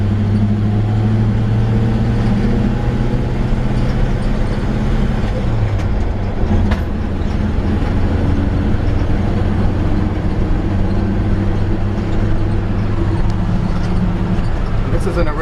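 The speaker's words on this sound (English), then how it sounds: "Shifts through all the gears really easily." An original 1948 Ford F1 pickup truck drives along with a constant loud engine and road drone, and its engine note drops abruptly partway through as it shifts gears.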